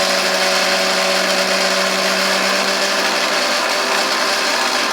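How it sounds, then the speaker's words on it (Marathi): A kitchen mixer grinder whirs loudly and continuously while blending Colgate tooth powder with another powder, a steady high-pitched motor drone with no pauses. "तर चला परत एकदा आपण मिक्सर लावू आणि ती कोलगेटची पावडर आणि दुसरी पावडर एकत्र करून घेऊया आपण"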